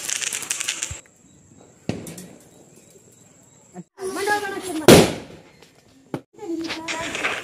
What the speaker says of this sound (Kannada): ಈಗ ಪಟಾಕಿನ ಹೊಡಿತಿದ್ದೀವಿ. ಸೊ ಇದು ನಮ್ಮ ಏರಿಯಾದಲ್ಲಿ ಹೊಡಿತಿರೋದು ನೋಡಿ